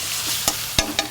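A spoon stirring food in a pan for a coconut-and-garlic cup biryani: two or three quick scraping strokes over a bright continuous sizzle, close up.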